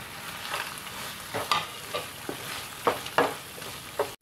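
Beetroot halwa with cashew nuts is stirred in a pan, with a soft sizzle beneath a series of irregular spoon scrapes and knocks, close and fairly loud.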